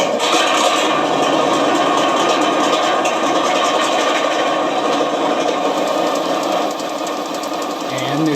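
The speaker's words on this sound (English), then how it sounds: "let's go ahead and start with a startup and listen to the new sounds" A Taigen V2 electronic sound card plays its simulated engine startup, a loud, continuous mechanical rumble and clatter that runs steadily through the whole stretch.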